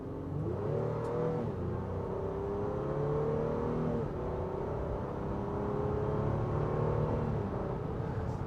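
A 2023 Honda Pilot's engine pulls under throttle from inside the cabin, its tone climbing steadily with smooth shifts that drop the pitch before it rises again, a continuous moderate hum with no talking.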